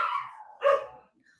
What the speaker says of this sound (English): the cat's down harassing the dog